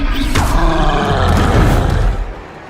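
A Confringo spell blast in the video game Hogwarts Legacy, a loud roaring burst with booming low rumble and whooshing effects that sustains for about two seconds before cutting off.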